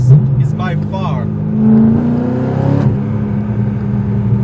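Chevrolet Corvette C6 Z06 with a naturally aspirated engine and manual stick shift accelerating, a steady rising engine drone heard from inside the car with someone talking over it.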